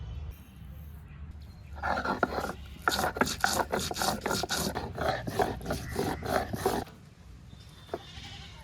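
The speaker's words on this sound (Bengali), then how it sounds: "ধনে জিরে নিয়েছি এগুলো একসাথে বাটবো" Coriander and cumin seeds are ground together on a grinding stone, a close scraping rasp repeating in quick rhythmic strokes for several seconds before it stops.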